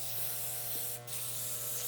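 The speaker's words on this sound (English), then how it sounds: "now I'm gonna spray this with the clipper" A can of clipper care disinfectant spray hisses briefly onto a dog grooming clipper, one short burst over a steady electrical hum in a grooming room.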